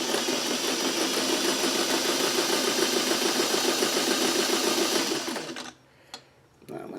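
A home sewing machine runs a short stitch through skinny fabric strips for a strip set, whirring steadily and close for about five seconds before stopping, followed by a couple of faint clicks.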